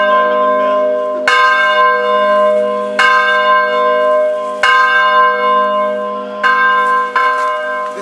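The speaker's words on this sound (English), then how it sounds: "We were welcome with the bell. We're bidding us goodbye with the bell." Church bells ring loudly at Mary's Well in Nazareth, several strong strikes spaced a second or two apart, each leaving a long resonant hum, with no talking.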